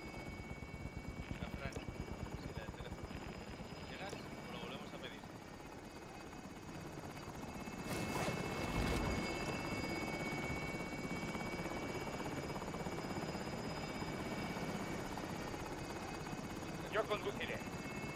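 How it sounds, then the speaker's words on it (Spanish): A helicopter in the video game Call of Duty: Modern Warfare drones steadily with a continuous rotor roar throughout, swelling louder midway as it departs the area, with occasional game effects and voices over it. "El helicóptero abandona la zona."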